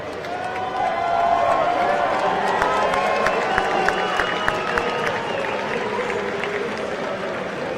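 A crowd at a live strongman record-breaking event cheers and claps in a loud, sustained roar, with whoops and shouts rising over steady applause.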